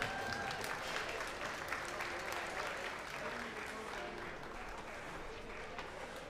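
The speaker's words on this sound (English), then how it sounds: "Give them all a big round of applause" A crowd at a sheep shearing competition at an agricultural show applauds steadily, dense clapping that slowly tapers off, with a faint voice talking over it.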